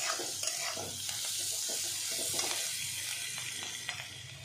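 Chopped vegetables for poha frying in a pan, a soft continuous sizzle with repeated scraping strokes of a spatula stirring, close and moderately quiet, no talking.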